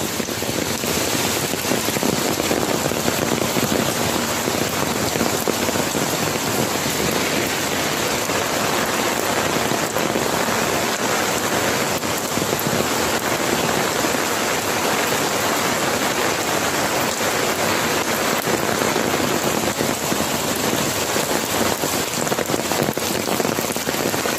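Steady heavy rain pouring down without a break, a dense even hiss of drops striking surfaces nearby, with no voices.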